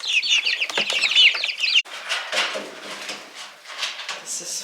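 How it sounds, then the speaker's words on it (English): A chicken clucks busily right up close inside a tiny house under construction, loud and rapid for about two seconds before dropping to softer, scattered clucks and rustling. "this chicken keeps coming in here where Chris is working."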